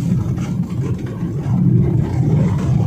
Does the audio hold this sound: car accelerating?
yes